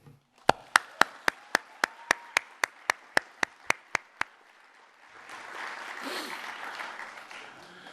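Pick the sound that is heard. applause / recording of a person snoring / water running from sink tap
applause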